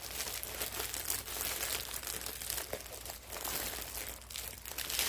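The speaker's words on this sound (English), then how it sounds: "I'm ripping the bag. This is not a good bag." A thin plastic packaging bag is ripped open and crinkled by hand, a close, continuous crackling and tearing with sharper bursts, no talking.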